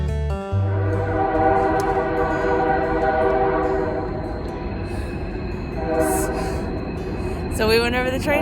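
A train rolls past on railroad tracks near a forest trail by Talladega Creek, a loud sustained rumble with horn blasts, closing with a short rising horn call, and a voice briefly under the noise.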